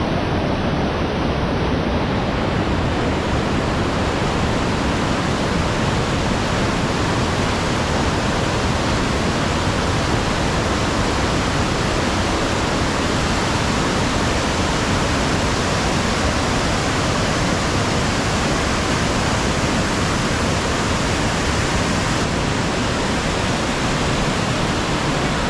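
The Pushpawati, a Himalayan mountain river that joins the Alakananda at Govindghat, rushes in a loud, unbroken roar of churning water, dense and constant from start to finish with no voices.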